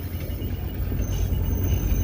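Tourist train ride in Virginia City, Nevada: a steady low rumble of rolling railcars with rattling wheels and faint squeals, heard from on board, loud and continuous.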